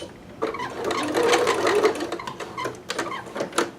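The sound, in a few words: sewing machine running out of thread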